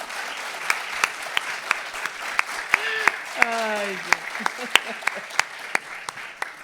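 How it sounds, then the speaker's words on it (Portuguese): Audience applause at an academic event, a steady patter of clapping hands throughout, with a voice speaking briefly over it partway through. "Um aplauso fuerte para esta mulher."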